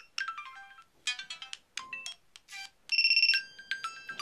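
Windows Phone 7 alarm tone played as a preview on the handset, a quiet bright electronic chiming melody of short repeated note bursts and a sustained two-tone passage, heard alone.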